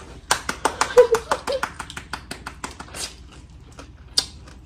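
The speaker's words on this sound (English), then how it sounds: "I'm gonna clean my hands so I can clap." Someone at a spicy snow crab and crawfish seafood boil claps with freshly cleaned hands, a quick run of sharp slaps that thins out, then one last clap, with bits of talk alongside.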